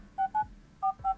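Four short telephone keypad tones beep from a child's smartwatch in two quick pairs, clear and close with nothing else heard.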